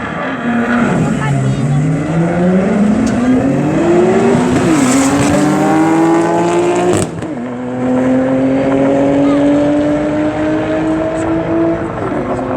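A McLaren drag car makes a run at an airfield drag strip, its engine climbing through rising gear-by-gear sweeps with a brief shift gap, loud and continuous under a crowd and commentator.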